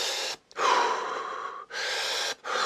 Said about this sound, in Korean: 숨소리만 내는 행위를 반복해왔던 거죠